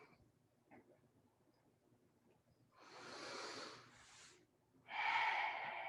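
Two long, breathy deep exhales during a yoga hip stretch, close and moderately loud, the second stronger and slightly whistling, after a few seconds of near silence.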